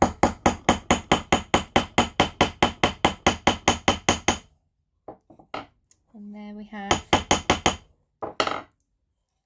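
Rapid, evenly spaced metallic hammer strikes flatten metal wire on a steel block, ringing out for several seconds, then stop; someone speaks briefly, followed by a couple more light taps.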